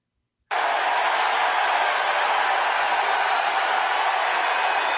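A concert crowd cheers and roars on request. Steady, dense, fairly distant crowd noise starts abruptly after a short silence and holds evenly to the end, with no distinct voices on top.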